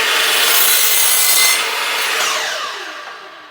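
A compound mitre saw slices through wood in one steady, loud cut, then the blade winds down and fades away toward the end.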